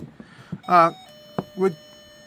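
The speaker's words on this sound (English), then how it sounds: "Sorry about that doorbell." A doorbell sounds nearby with a clear two-note chime, ringing out twice amid small clicks and room noise.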